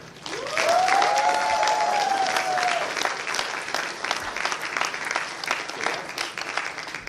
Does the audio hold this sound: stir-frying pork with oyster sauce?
no